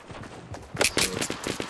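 Gunfire in the battle royale game Fortnite, with a quick run of close, sharp shots in rapid succession.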